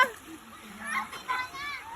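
Ducks splashing and bathing in a shallow pool of water, with irregular close splashes and dripping under a voice and other speech.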